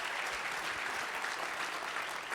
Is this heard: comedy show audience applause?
yes